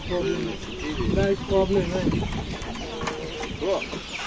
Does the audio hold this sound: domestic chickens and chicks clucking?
yes